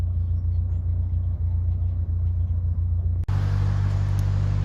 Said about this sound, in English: That, ladies and gentlemen, is the M40 motorway.